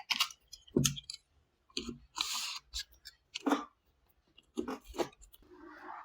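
Cardboard box of a Digit Glory 2023 phone being opened, with a series of short crisp clicks, scrapes and rustles of packaging in bursts and pauses, close up and fairly quiet, no speech.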